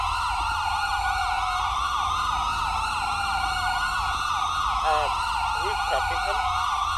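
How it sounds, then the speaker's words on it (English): Police sirens from a GTA 5 roleplay session wail continuously and loudly, several overlapping warbling tones sweeping up and down throughout, with a faint voice briefly underneath. "The sirens are awful."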